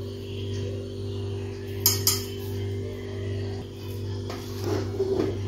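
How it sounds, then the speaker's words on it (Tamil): Rock sugar is added to pongal in a cooker on a stove, with a few light metallic clinks and taps of utensils over a constant low hum, close by and fairly quiet. "இப்போ நான் கல்கண்டை போடுறேன்."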